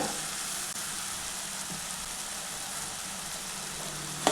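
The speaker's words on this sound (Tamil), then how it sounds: "அதையும் சேர்த்து அந்த வாழைப்பழத்தை கூட வதக்கி விடுங்க" Banana sautéing in a pan with grated coconut gives a steady, close sizzle with a soft frying hiss throughout, and a faint scrape near the end.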